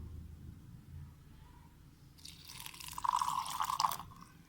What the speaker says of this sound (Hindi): इसमें मैंने थोड़ा सा ये पानी डाला है।